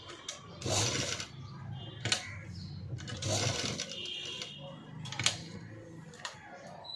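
A sewing machine stitches a sleeveless, padded cut-work blouse in bursts of quiet mechanical whirring, with short pauses between runs and a few small clicks.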